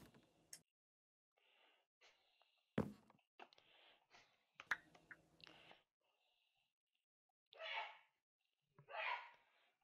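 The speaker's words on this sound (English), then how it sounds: "That's sneezing audio." Quiet, sparse sneezing sounds in a Minecraft SkyFactory 3 game, several short bursts and sharp puffs spread out with pauses of near silence between them, including two breathy bursts near the end.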